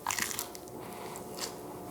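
A single close, crisp crunch as fried ground beef food, saucy in the middle, is bitten into, followed by a little quiet chewing.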